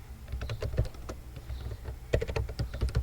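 Computer keyboard typing Java code, a run of fast crisp key clicks with a short pause in the middle, close and steady over a low hum.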